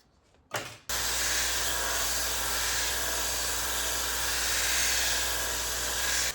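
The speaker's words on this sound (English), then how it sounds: "I'm gonna get the sander set up properly and then we'll make a wedge." Power sander grinding a wooden axe wedge into shape, a steady loud whir that starts abruptly after a brief pause and runs continuously to the end.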